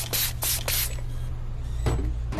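Several short hissing bursts of a spray bottle in the video game Help Wanted 2, three quick sprays close together, then a pause and two more, over a steady low background hum.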